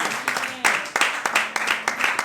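A church congregation claps in acclamation of Jesus, a steady run of sharp, fairly close handclaps roughly every third of a second, with voices underneath.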